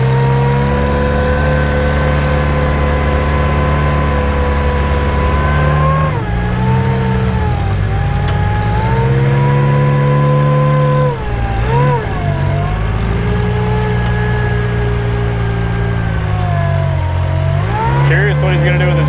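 A narrow rock crawler car's engine revs hard and close while climbing King Crack on a crawling trail, its loud, sustained tone rising and falling with throttle changes over nearly twenty seconds.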